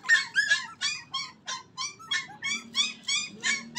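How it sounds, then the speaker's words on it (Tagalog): A dog whimpers and yelps in a rapid series of short, high, whiny cries, about a dozen in a steady rhythm, close and fairly loud with no talk. "Yan guys, ang ating aso guys."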